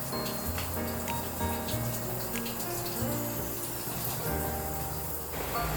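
Tap water runs steadily while a face-cleansing brush is rinsed off at a sink during a shower routine, a continuous close hiss with a low hum beneath and no talking.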